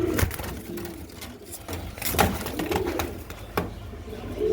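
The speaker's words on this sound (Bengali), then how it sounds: "মাদি কবুতরটা" A female racing pigeon coos in soft, low, rolling phrases up close, with faint scuffs and handling noises around it and no talking.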